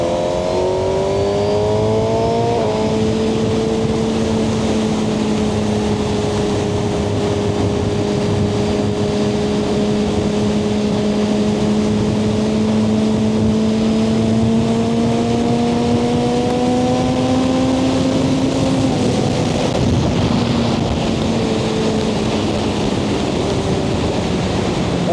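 A Suzuki GSX-R1000R sportbike ridden in C mode, its engine droning loud and steady through long gear pulls with shifting pitch, mixed with heavy wind rush for the whole ride.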